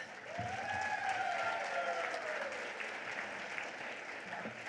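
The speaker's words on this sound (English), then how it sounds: "can you guys give each other all a big round of applause?" Audience applause fills a room at the Oley 2023 welcome gathering, a steady wash of clapping lasting several seconds with a voice briefly audible over it.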